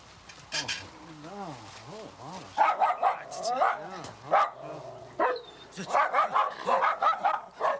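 Dogs bark in quick, excited bursts at a snow leopard, loud and close, with whining tones and people talking over the commotion.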